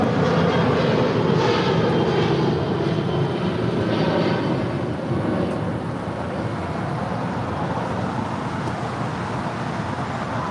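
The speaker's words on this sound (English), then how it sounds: "That was American Airlines flight 9785 heading to Chicago O'Hare, but diverting to Phoenix." An American Airlines Boeing 737-800 airliner, flight 9785, at LAX, heard as a loud jet engine rumble that gradually fades over several seconds.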